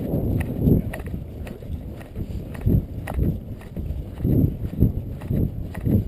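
Polo horse ridden outdoors, hooves clip-clopping in an irregular gait on soft ground, fairly close, with scattered low thuds and faint background voices.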